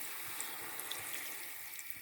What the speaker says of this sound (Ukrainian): я зараз сюди додаю води